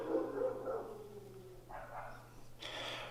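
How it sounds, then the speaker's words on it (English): Several dogs bark back and forth in a garage or shop setting, a few short bursts trading off, moderately near and loud, with a steady low mechanical hum underneath. "The dogs are talking to each other."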